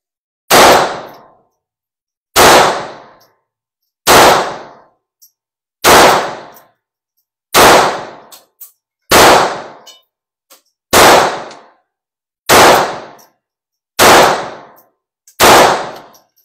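Ten evenly spaced sharp cracks, each with a quick metallic decay, ring out alone at a steady pace, suppressed Ruger Standard rimfire pistol shots with faint clinks between.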